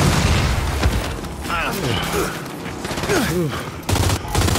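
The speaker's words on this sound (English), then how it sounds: "Throwing flash grenade." Gunfire and explosions in the video game Gears 5 as a flash grenade is thrown, with loud bursts of shots and booms mixed with distorted character voices.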